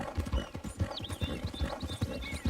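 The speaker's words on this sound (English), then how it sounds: "Dude, this horse boogies, though." Horse hooves galloping in Red Dead Redemption 2, a rapid rhythmic clip-clop of heavy thuds close by, with a brief whinny-like cry amid the pounding.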